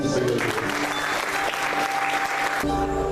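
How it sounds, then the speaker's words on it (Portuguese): Congregation applauding during a church service, with a dense, continuous clapping wash throughout, a voice faintly beneath it and sustained music tones that come forward as the clapping fades at the end. "aplauda o nome do Senhor"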